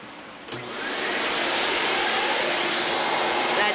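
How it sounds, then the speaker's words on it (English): A vacuum cleaner clears dirt out of a fan, its motor switching on after a click and ramping up into a loud, steady rushing roar that holds to the end. "I'm going to take the vacuum cleaner and get rid of some of this dirt that's in it."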